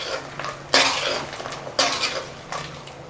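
A metal utensil stirring mutton kurma scrapes and clanks against the cooking pot in three bursts, close and fairly loud, with quieter scraping between them.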